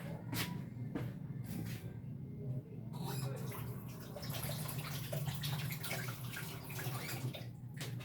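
Tap water runs steadily while an onion is washed in a home kitchen, with a continuous close splashing flow and small knocks and drips throughout.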